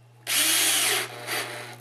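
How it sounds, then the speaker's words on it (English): A power drill drives a screw into a homemade acoustic panel, a loud whirring burst that bogs down briefly, surges again and tapers off over under two seconds, close up with no talk. "Drill it in."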